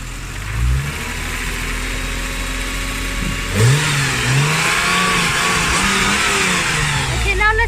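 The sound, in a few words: BMW E36 M3 engine revving, Super Sprint exhaust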